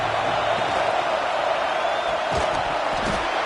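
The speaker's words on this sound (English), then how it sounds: "The roar of the crowd trying to fuel this defense to keep them pinned in their own end." Steady stadium crowd roar from a College Football 26 game at Alabama against West Virginia, a continuous dense wash of massed voices holding at even loudness throughout with no commentary over it.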